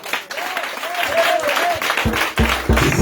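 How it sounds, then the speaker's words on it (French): A church congregation at a testimony festival after deliverance prayers claps and acclaims the Lord, a loud wash of applause under a preacher's voice and a sung tone. "Bien aimé, est-ce que tu peux acclamer le Seigneur?"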